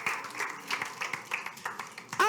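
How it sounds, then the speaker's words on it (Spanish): A church congregation claps during a worship service, scattered rhythmic hand claps at moderate volume, uneven and spaced, with a brief voice rising at the very end. "dale un fuerte aplauso al que vive y reina por la eternidad"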